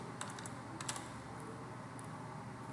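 Keys clack on a computer keyboard, a few quick irregular taps including a control-and-spacebar press, close and fairly quiet against a steady background hiss, with no voices.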